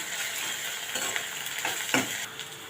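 Onion with ginger and garlic being stirred in a frying pan for a dhaba-style veg Maratha curry, a steady sizzle with a few scraping spoon strokes, close and alone.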